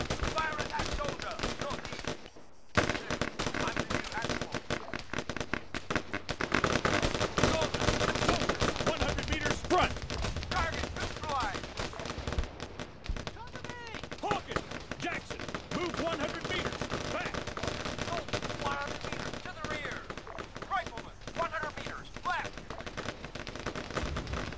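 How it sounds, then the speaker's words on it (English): Dense video game gunfire in Arma 3 during a camp defence battle, rapid automatic bursts and overlapping shots continuing almost without pause, loud and close, with voices calling orders over the shooting. "O'Connor, Walker, fire at that soldier."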